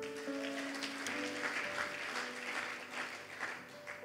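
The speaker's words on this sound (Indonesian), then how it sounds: "berikan tepuk tangan." A church congregation claps steadily through a worship service, the applause a continuous rustling wash over soft sustained keyboard tones in the background.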